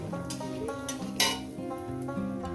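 Bori lentil dumplings fry in hot oil and give a steady sizzle, while a utensil stirs and clinks against the pan now and then, with one sharper scrape partway through.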